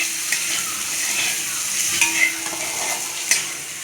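Tomatoes frying in a pan, heard as a steady close sizzle with a few scrapes and light clinks as they are stirred around.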